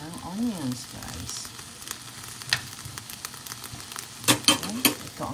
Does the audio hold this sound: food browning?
yes